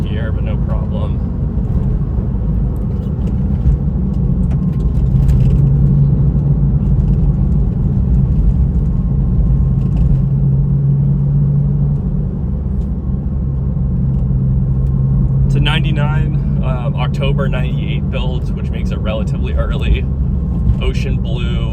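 A 1999 Porsche 911 of the 996 generation driven under power through a corner in third gear, its engine a steady, close rumble running beneath continuous talk.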